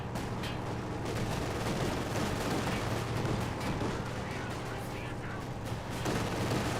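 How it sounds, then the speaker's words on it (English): A flak half-track fires continuously in the real-time strategy game Company of Heroes 2, a dense, loud barrage of rapid gunfire and explosions that runs throughout beneath a commentator's speech. "flak half track firing away."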